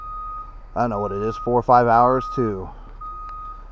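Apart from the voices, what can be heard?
bus reversing beeps while backing up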